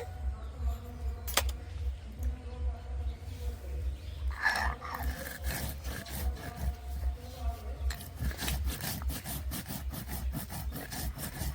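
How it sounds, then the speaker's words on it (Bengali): Cumin seeds ground by hand on a grinding stone, with a low, continuous rubbing and scraping that turns into rougher, rhythmic rasping strokes toward the end, heard close up. "প্রথমে বাটবো জিরে।"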